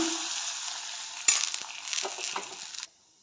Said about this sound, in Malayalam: രണ്ട് വറ്റൽമുളകും കുറച്ച് കറിവേപ്പിലയും കൂടെ ചേർത്ത് നല്ലപോലെ വഴറ്റിയെടുക്കുക.